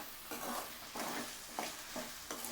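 Sliced lady finger okra sizzles in a hot pan with a steady frying hiss, and stirring scrapes come in a regular rhythm about every half second.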